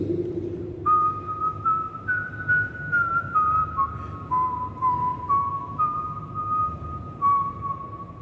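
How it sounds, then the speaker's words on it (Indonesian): A person whistles a melody alone, a run of clear sustained notes stepping up and down over a steady low rumble of background noise. "Di tengah jalan penumpang itu bersiul."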